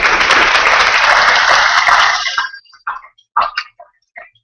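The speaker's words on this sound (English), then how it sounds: "Those three individuals, yeah, give her a clap." A graduation ceremony audience applauds a former minister of child and youth services, a dense sustained burst of clapping that stops abruptly, followed by a few scattered late claps.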